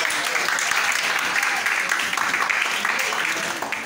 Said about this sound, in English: Can we applaud him?